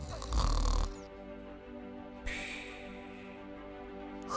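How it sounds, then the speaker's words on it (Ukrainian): Cartoon python snoring in an animated story, a loud rasping burst at the start followed by quieter rhythmic breathing snores with a second swell near the end. "Хропить."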